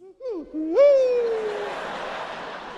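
A human voice imitates a small bird's night call: a loud, close, whistled hoot that dips and then rises into a long sliding tone before fading into breathy noise.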